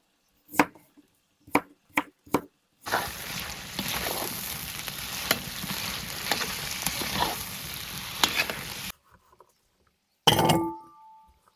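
Chunks of meat frying with large pieces of onion and carrot: a steady loud sizzle runs for about six seconds, framed by a few sharp knife chops before it and a short burst of clatter after a pause.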